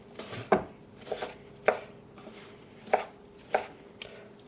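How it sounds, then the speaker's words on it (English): A knife dices eggplant on a cutting board, about six crisp, distinct chops spaced unevenly, close and clear against a quiet background with no speech. "Just go through it with a knife so you have small pieces"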